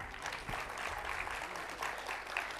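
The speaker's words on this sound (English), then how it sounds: "Let's appreciate them with a warm round of applause." Audience applause for young children performing at a preschool annual day, a steady, even patter of many hands clapping throughout, moderately loud and without any voices.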